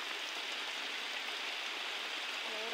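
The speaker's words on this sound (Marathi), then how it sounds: "गटारी स्पेशल जोरदार पावसाचा आगमन." Heavy monsoon rain pours down in a steady, dense hiss, close and constant with no pauses and no voices.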